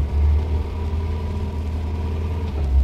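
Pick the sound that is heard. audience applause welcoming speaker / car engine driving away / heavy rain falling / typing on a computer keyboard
car engine driving away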